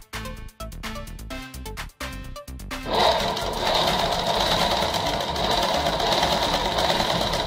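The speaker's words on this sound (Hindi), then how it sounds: "फिर से आपको ये इसमें सिलाई फेरना है।" A sewing machine stitches a petticoat, first in short stop-start bursts of needle clatter, then running continuously in a loud steady whir.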